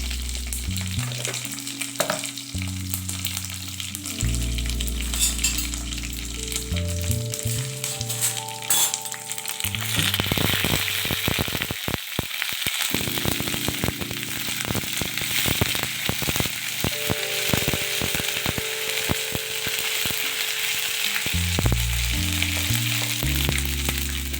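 Vegetable pieces frying in a pan with curry leaves and ginger-garlic paste for Andhra-style sambar, a steady close sizzle and crackle running the whole time beneath background music.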